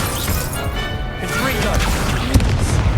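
Fire spell cast in the Hogwarts Legacy video game, a loud whooshing blast with a crashing burst near the end, layered under a character's spoken incantation and game effects.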